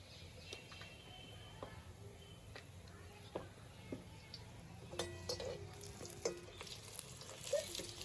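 Pea-stuffed kochuri deep-frying in hot oil in a Bengali home kitchen, giving a faint, steady sizzle with scattered small pops and clicks throughout.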